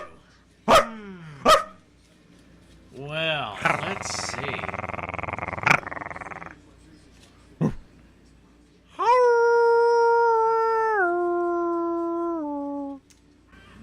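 A person imitates a dog during a conversation among a discussion crew, giving two sharp barks, a whining growl, another bark and then a long, drawn-out howl that falls in pitch, with brief talk nearby.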